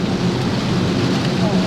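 Heavy rain drums steadily on a Daihatsu Ayla during a highway drive near kilometre 58 toward Serang, Banten, a dense continuous wash over low road rumble, with faint voices underneath.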